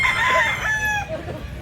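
Roosters crow loudly and close by at a chicken seller's yard in Mantalungon, Cebu, one long crow overlapping others, with clucking underneath.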